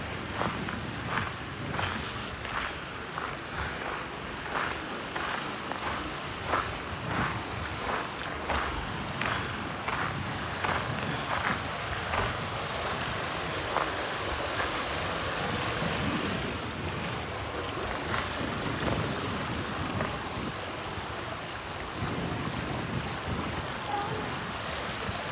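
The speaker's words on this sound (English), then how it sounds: "It's the creek flowing" Creek flowing in Hidden Valley, Rocky Mountain National Park, a steady broadband rush of moving water with wind buffeting the microphone and occasional rustles or footsteps close by.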